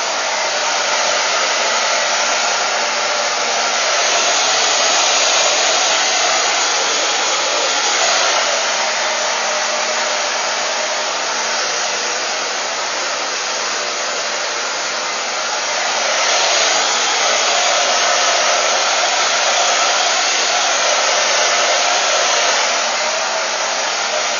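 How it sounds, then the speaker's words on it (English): A hair dryer blows steadily and loudly for the whole stretch, a continuous rushing whir with slight swells as it moves. "just kind of take your blow dryer and dry all over"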